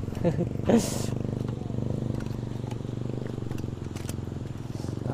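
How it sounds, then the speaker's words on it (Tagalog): Motorcycles rumbling steadily past a riverside campsite by Puyao River, a continuous low engine drone with a louder pass near the start, heard alone without talk. "Kaya marami kayo naririnig na mga motor"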